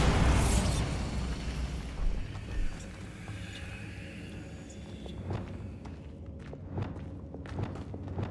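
A Bombarda spell detonates in Hogwarts Legacy with a loud opening blast that rolls off into a long rumbling decay, followed by scattered thuds and crackling debris.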